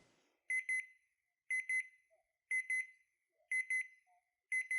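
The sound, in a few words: game show time-up clock buzzer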